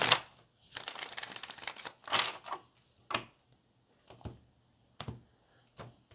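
Tarot cards are shuffled close by, with a long riffling burst followed by several short, separate snaps and taps as the deck is squared, faint against a quiet room.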